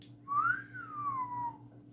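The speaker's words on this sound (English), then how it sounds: "A woodchuck called back with a whistling sound." A long, rising then gently falling whistle of a woodchuck, heard once and clearly over a low steady hum.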